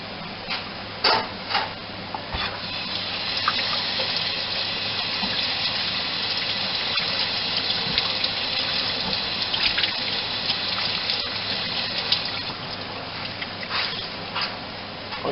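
Carburetor parts, a metering block and float bowl, rinsed under a running tap after ultrasonic cleaning, a steady close rush of water with small splashes and clinks throughout.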